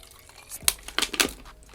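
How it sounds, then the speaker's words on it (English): Water splashing and trickling in short bursts as a spray bottle is refilled, close and moderately loud, with a couple of distinct pours near the middle and no talking. "I need to put some more water in my bottle."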